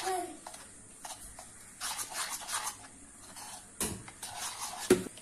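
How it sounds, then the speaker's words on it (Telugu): A spoon stirs ground banana and jaggery batter for banana oats dosa in a bowl. Soft, close, repeated scraping strokes continue steadily, with a sharper clink near the end. "దీన్ని ఇప్పుడు మిక్స్ చేద్దాం"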